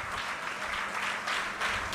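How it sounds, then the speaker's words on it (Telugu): Audience in a church at an anniversary service breaking into steady applause, a dense, continuous wash of clapping that swells slightly toward the end, with no voices over it. "ఒకసారి గట్టిగా చప్పట్లు కొట్టండి"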